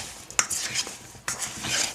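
Potato wedges tossed in a coating mixture in a bowl give two sharp clinks of utensil on dish among soft wet stirring and scraping, close and intermittent.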